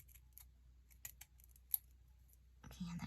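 Scissors with glue on the blades snip through paper during crafting of shabby chic altered cans, a few faint scattered clicks and snips in a quiet room, with a brief voice near the end.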